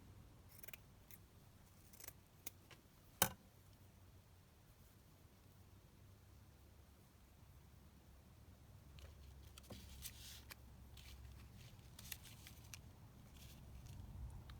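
Scissors trim leftover paper scraps for ephemera crafting, giving a few quiet, sharp snips and rustles close by against faint background noise.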